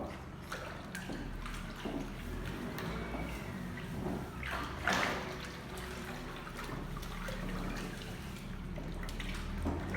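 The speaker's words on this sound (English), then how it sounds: "You're stirring as you're pouring." Oil is poured in a thin trickle into a liquid soap mixture while it is stirred, making a soft continuous liquid dribble with faint sloshes and a brief louder splash midway. No one speaks.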